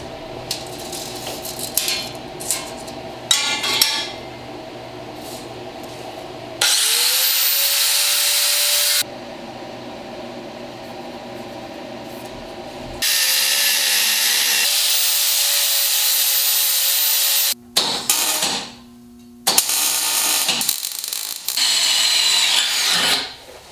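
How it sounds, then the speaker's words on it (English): A power drill bores holes for rosette welds during a carrier bearing modification, in several long, steady, close runs separated by short pauses and handling noise. "I'm drilling these holes for rosette welds."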